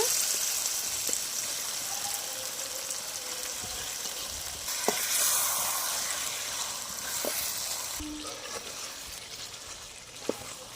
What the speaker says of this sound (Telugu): అల్లం చిల్లిపాయ వేగిపోయిందండి ఈ ముక్కలను అయితే దీంట్లో షిఫ్ట్ చేసేస్తున్నాను